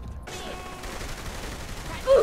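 Gunfire in the Saints Row: The Third campaign, a dense, steady spray of shots running throughout at moderate loudness with a brief louder burst near the end.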